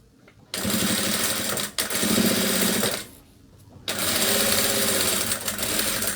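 An industrial sewing machine stitching through thick fabric runs in two sustained bursts, separated by a brief pause, then starts up again with a steady, close mechanical whir.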